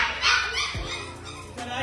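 A fluffy, heavy-set puppy in a pet shop gives a few short, sharp yips and barks close by, with a low voice or background sound underneath.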